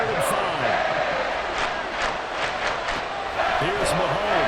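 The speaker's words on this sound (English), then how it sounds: "this crowd doing their best to make a lot of racket" Stadium crowd roar in Madden NFL 24 during a Chiefs versus Dolphins game, a loud continuous wash of cheering and noise on third down, with a commentator talking over it.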